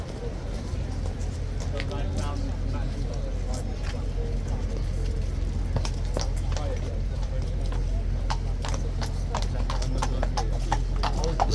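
A Life Guard horse's hooves clip-clopping on hard ground as it is led around near a stable, sharp repeated hoofbeats over steady background rumble, with people talking and occasional bird sounds.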